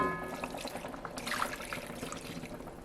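Red wine and stock poured into a pot for braised brisket, a steady close gurgling stream of liquid with no talking over it.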